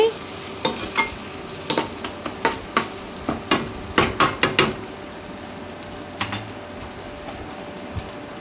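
A ladle stirs tomato pieces into a frying eggplant and chicken curry, producing quick, sharp metallic taps and scrapes in rhythmic clusters over a constant sizzle.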